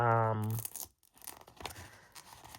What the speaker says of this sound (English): I just tore that strip.